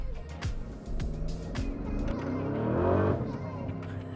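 A modified Porsche Cayenne Turbo with a 4-liter twin-turbo V8 drives fast, its engine droning and rising in pitch as it accelerates, heard from inside over road noise with a person talking.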